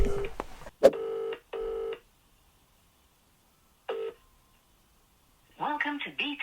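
Keypad tones of a mobile phone as a call is dialed: a short sharp beep, then a couple of longer electronic tones, a pause and one more tone, followed by a recorded voice starting to speak.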